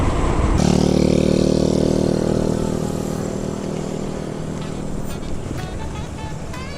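A 4000W dual-motor electric bike accelerates with a loud, steady whine and rushing road and wind noise that swells early, then settles and slowly fades.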